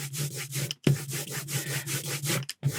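Brayer rolling out a thin slab of printing ink on a flat surface: a steady sticky, hissing rub repeated in back-and-forth strokes with brief pauses, close and fairly loud, no talking.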